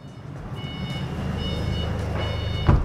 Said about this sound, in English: You can hear that that's actually my dad on the fork truck